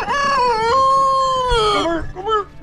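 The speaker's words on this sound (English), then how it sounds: "These are my two roosters." Two roosters crowing close by, one long drawn-out cock-a-doodle-doo rising and holding, then breaking into shorter falling calls at the end.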